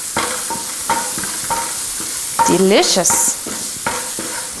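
Prosciutto, onion and garlic sautéing in a pan, an even close sizzle with rhythmic stirring scrapes, and a short spoken word over it midway.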